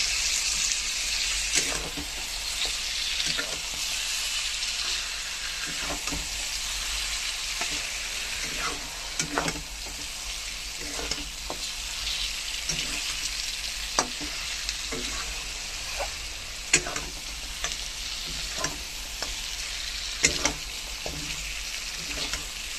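Boiled mutton pieces frying in oil-glossed spice paste, sizzling steadily throughout with repeated scraping stirs and clinks of a spoon against the pan at an irregular rhythm, close and fairly loud, with no talk.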